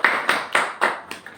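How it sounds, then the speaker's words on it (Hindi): A few loud, separate bursts of clapping from an audience at a Ramadan ration distribution event, welcoming the chief guest, with about five sharp claps spaced roughly a quarter second apart and fading toward the end. "इनके लिए तालियां बजाइए।"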